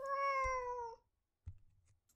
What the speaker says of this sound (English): Hi there, cat. Kitty cat.